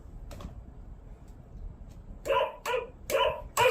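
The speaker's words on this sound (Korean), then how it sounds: "강아지 소리" A small dog barks four times in quick succession near the end, sharp and close, after a few seconds of faint quiet background.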